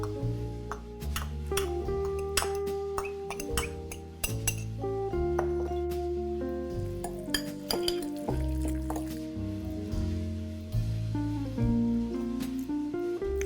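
A metal utensil clinks and taps against a bowl while a salmon tartare marinade with red onion and capers is stirred, with steady repeated clicks over faint background music and no talk.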